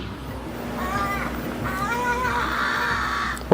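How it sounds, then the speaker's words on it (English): A crow calls outdoors in a few harsh, rasping bursts over a steady low background hum, moderately close and loud. "There's a crow."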